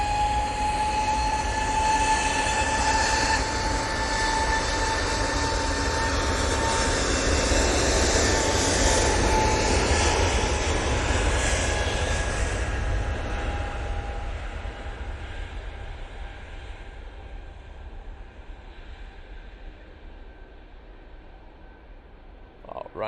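An Etihad Boeing 787 Dreamliner arriving from Cancun lands at Manchester Airport: a loud, sustained jet roar with whining engine tones that gradually fades away over the final seconds, no talk.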